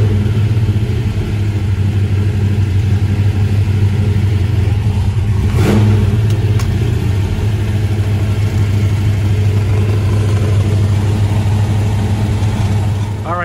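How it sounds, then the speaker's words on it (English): A 1966 Chevrolet Chevelle engine with dual exhaust running: a loud, steady low rumble throughout, with a brief rise around the middle, heard close and alone. "So we'll start the car and listen to the motor and the exhaust. Nice dual exhaust, sounds really good."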